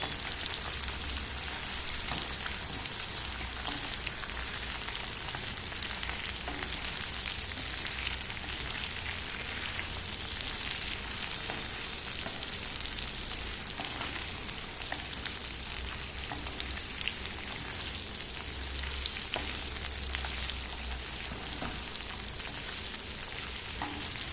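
Chicken fries in oil with cashews and curry leaves in a spicy garlic dry fry, giving a continuous, dense, fairly faint sizzle with occasional stirring and no talk.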